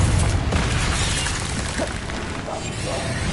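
Confringo fire spells exploding in the Hogwarts Legacy video game, a dense, loud stream of booming blasts and crackling bursts that keeps going without a break.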